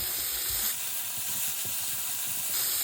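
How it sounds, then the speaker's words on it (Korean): Eggplant and garlic stir-frying in a pan: a steady, soft sizzle and hiss with faint scraping and stirring, and a few light clicks. "어느 정도 노릇노릇해지면 마늘을 반 큰술 정도 넣고 좀 볶아줄게요."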